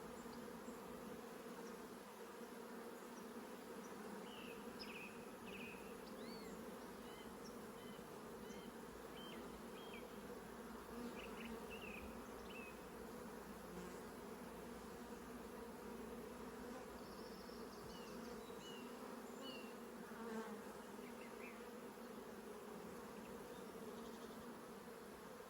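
Honey bees buzz around an open hive during a transfer from a nuc, a dense steady drone close by with individual bees flying past.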